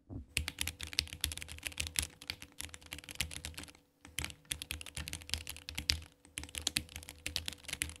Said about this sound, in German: Wie klingt die Tastatur? Hier eine kleine Kostprobe.